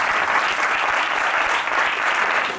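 Evangelical church congregation applauding the Lord during a sermon, a loud, even, continuous burst of many hands clapping together with no voices standing out.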